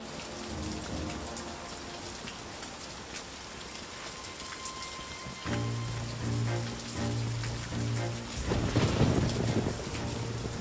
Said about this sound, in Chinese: 雨夜出访，这么着急要去哪？ 风大雨急